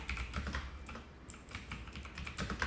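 Quick, steady typing on a computer keyboard while entering heading text in a document, a soft run of close, rapid key clicks with no one talking.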